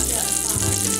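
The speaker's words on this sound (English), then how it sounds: "We're going to heat the ham up in this pan" Dense, crackling sizzle of ham frying in a hot pan, steady and close, with no voices.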